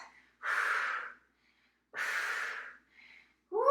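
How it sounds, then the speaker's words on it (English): Heavy, forceful breaths during a chest and back workout: two long rasping exhales separated by quiet pauses, then a third breath starting, close and loud with no talk. "breathing it up"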